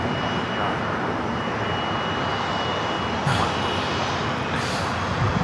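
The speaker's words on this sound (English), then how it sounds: "Global 7500 landed on 24 right from Hong Kong, VistaJet 751" A Bombardier Global 7500 business jet arriving from Hong Kong lands on runway 24 right at LAX with a loud, continuous engine roar that holds steady throughout, heard from a distance without talk.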